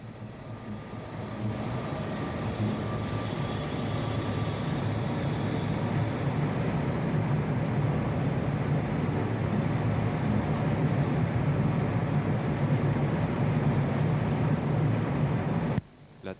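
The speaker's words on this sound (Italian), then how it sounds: "Il treno frena e riduce la velocità a 90." Cab ride on a 1994 train on the Drautal line between Salzburg and Villach, braking and slowing to 90 km/h: a steady, loud rolling rumble with a low brake hum running throughout, cut off abruptly near the end.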